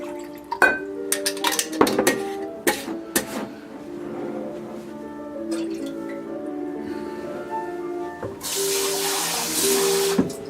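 A kitchen tap runs water into a sink or container while candy is made, with clinks and taps of utensils early on, then a louder stream rushing steadily near the end, no talk.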